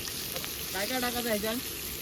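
Pomfret fish fry on a tava at an outdoor party cook-up, giving a steady broadband sizzle, while a voice talks briefly over it in the middle.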